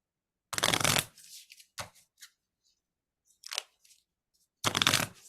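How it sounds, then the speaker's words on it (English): Magic: The Gathering cards being shuffled together in a riffle, with a loud dense burst of flicking and snapping card noise, several softer taps and riffles, then another loud shuffle burst near the end. "I'm gonna actually shuffle them together and see what it looks like."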